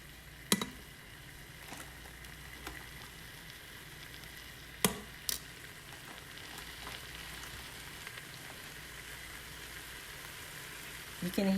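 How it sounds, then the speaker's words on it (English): Oil sizzles in an Instant Pot while Haitian bouillon is being cooked, a quiet steady frying hiss with a few sharp clinks and scrapes of utensils against the pot. "You can hear it starting to sizzle."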